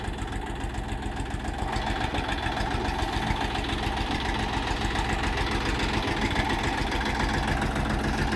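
The engine of a Chinese tractor used for clearing land before ploughing runs steadily at idle, with a dense, even rumble and chugging heard up close throughout, with no speech.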